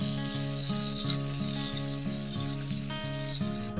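Onion, peanuts and green chilies fry lightly in oil for hotel-style shingara filling, a bright continuous sizzle close up, with a repeating mechanical whirring hum pulsing underneath.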